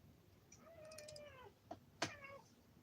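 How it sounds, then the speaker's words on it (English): A house cat meows several times in a row, short rising-and-falling cries close by, the last one louder and sharper, with no one talking. "he'll walk around the house meowing, trying to find him."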